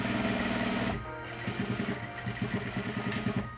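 Sewing machine stitching a grocery tote bag made from old clothing, a continuous hum that changes after a second into rapid rhythmic mechanical pulses, close and clear.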